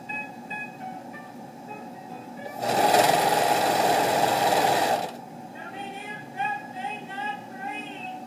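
A sewing machine stitches elastic in one loud, fast, even burst lasting about two and a half seconds, close by, with a person talking before and after it.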